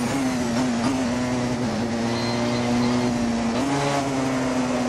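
A 2015 Porsche 919 Hybrid race car in Assetto Corsa, its engine holding a steady, loud, buzzing drone with slight pitch shifts as the throttle changes, continuous throughout.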